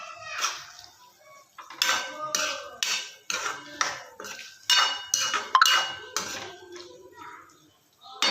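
Capsicum curry is stirred in a pan with a steady series of metallic scrapes and clinks, about a dozen strokes in loose rhythm, close and clear, with brief quiet gaps between bursts.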